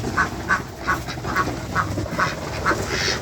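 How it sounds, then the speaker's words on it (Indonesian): Meat ducks on a small home farm of about 70 birds quack in a steady series of short calls over a constant background hum, with no talking. "kapasitas 70 ekor bebek daging"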